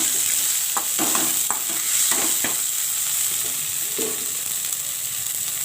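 Garlic and capsicum stir-fried in a hot pan with spring onion greens: a steady bright sizzle, broken by a few scraping spatula strokes near the start and again around the fourth second, with no talking.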